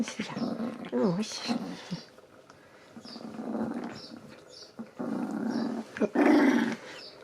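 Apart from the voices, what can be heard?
dog growling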